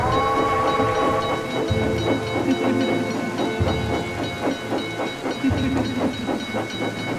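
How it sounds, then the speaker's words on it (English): Steady rain with deep rumbling thunder in a stormy night scene, heavy and continuous throughout, with a low roll pulsing underneath. "Just then it started raining"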